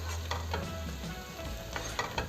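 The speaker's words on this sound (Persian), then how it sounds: "یه کوچولو با زردچوبه تفتش میدم." Chopped onions sauté with turmeric in a pan for a Persian chicken fesenjan stew, giving a soft, steady sizzle broken by a few brief scraping stirs, quiet and close with no voices.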